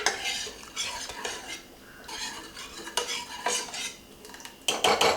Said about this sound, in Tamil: பருப்பு குக்கரை திறந்துட்டு கரண்டியை வச்சு இப்படி நல்லா மசிச்சு விட்ருங்க